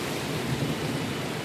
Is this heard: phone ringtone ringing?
no